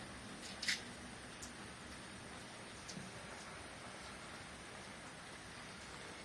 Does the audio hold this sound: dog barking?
no